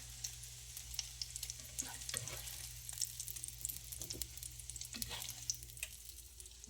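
Oatmeal burger patties frying in oil, a steady low sizzle with scattered crackles and pops and a few soft clanks of a utensil against the pan.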